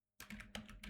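Quick burst of typing on a computer keyboard, a handful of close, crisp key clicks in rapid succession over about a second.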